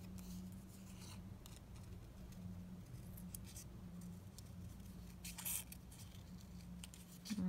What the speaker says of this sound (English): But just cut out this butterfly